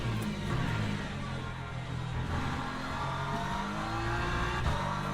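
Race cars from the Le Mans Ultimate racing game, with LMP2 prototypes closing in during a multiclass Le Mans race, produce a steady, loud engine roar with rising revs and a faint tyre squeal throughout, with no talk.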